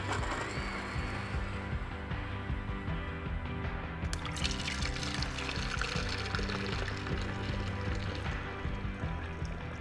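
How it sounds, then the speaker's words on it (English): Water is poured into a container while making matcha, giving a steady, close splashing that carries on throughout with a brighter gush partway through. "And then we're gonna add the water."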